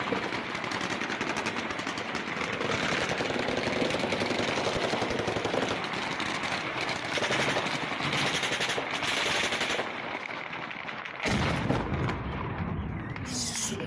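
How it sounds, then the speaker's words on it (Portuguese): Sustained bursts of machine gun fire from Russian soldiers shooting at an attacking drone near a Caspian Sea naval vessel, loud and continuous with rapid crackling, a brief dip near the end before the firing resumes. "vocês ouviram o tiro de metralhadora, é justamente os soldados russos tentando derrubar o drone antes dele atingir o navio"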